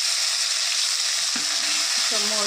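Whole spices such as dried red chillies and bay leaf crackle and sizzle in hot oil in a wok for a Bengali raw banana korma, a steady, loud broadband frying hiss with a few brief stirring scrapes near the end.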